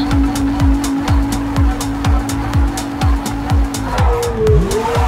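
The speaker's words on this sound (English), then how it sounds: "balancing throttle and steering to maintain perfect drifts throughout the course" An autonomous car drifts around a course in repeated loops, its tires squealing in rhythmic bursts over a loud, constant engine tone that shifts pitch near the end.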